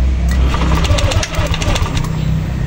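A Yamaha Aerox 155 scooter with a suspected short circuit is cranked. Its engine churns and rattles loudly and steadily, with a ticking clatter, as it tries to start but does not clearly catch.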